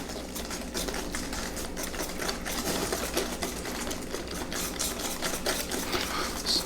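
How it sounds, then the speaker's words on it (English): Pecan pie filling whisked by hand in a bowl, a steady, rapid scraping and clicking that runs continuously at close range with no voices. "we just gonna whisk it right away with this right here"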